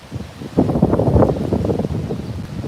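Wind gusting outdoors in Pennsylvania ahead of rain, a rough, buffeting rumble against the microphone that swells in the middle and settles into steady blustering, near and moderately loud.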